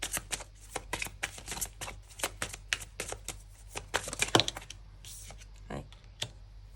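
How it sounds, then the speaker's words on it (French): Tarot cards being shuffled and drawn, a fast run of close, crisp riffling and slapping card sounds that slows into a few separate flicks near the end. "Je vais prendre 2 nouvelles cartes."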